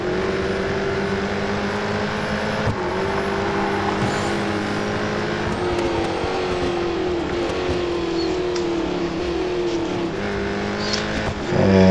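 A Ford Falcon FG X race car in Real Racing 3 roars continuously at high revs, the engine note sweeping up and down through gear changes for the whole stretch, loud and close with no talk.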